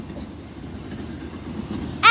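A train rolls past a railroad crossing with a steady low rumble of wheels on rails, then a loud, sudden horn blast cuts in at the very end.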